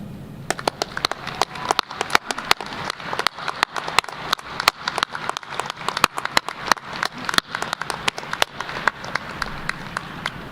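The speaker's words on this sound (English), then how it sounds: "remain standing as we give a round of applause to these individuals who have" A spring commencement crowd gives a standing round of applause, a bright patter of individual claps, some sharp and close, spread over a busy steady wash for the whole stretch with no speech.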